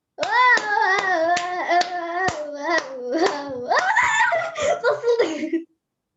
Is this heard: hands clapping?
yes